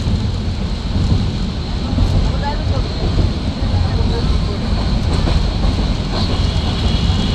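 Passenger train on a line near Dhaka heard from inside a carriage, a loud steady low rumble and rattle of wheels on rails that continues throughout.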